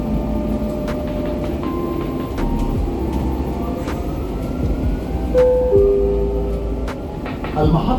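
A Dubai Metro Gold Class train runs between stations, with a steady low rumble and rising and falling motor whine, occasional tonal electric hums and clicks, and a recorded announcement voice under the noise.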